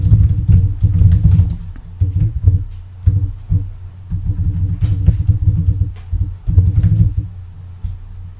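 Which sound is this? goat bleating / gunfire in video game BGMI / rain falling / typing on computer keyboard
typing on computer keyboard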